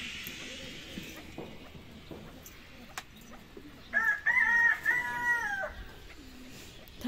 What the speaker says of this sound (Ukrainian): Півник нам заспівав.